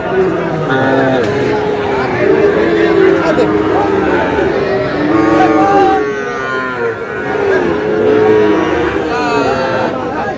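Sahiwal bulls and calves at a Cumilla cattle market moo in several long, loud, close calls, one after another, mixed with people talking and market chatter.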